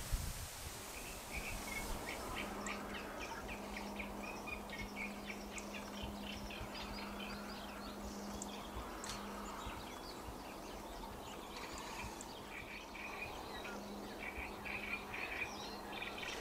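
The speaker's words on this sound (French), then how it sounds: "Donc là, c'est le petit matin, et c'est le temps où les oiseaux se réveillent." Birds call and chirp at dawn in the Camargue wetlands, with a mix of repeated songs and tweets at varying distances over a soft bed of insect buzzing and faint rustling, with no voices.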